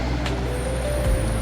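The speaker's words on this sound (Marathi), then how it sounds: "मग आता आपली ट्रेन आलेली आहे" A Delhi Metro train pulls into the platform, and a loud hiss of air brakes and a low mechanical rumble fill the station in a brief burst, with no voices.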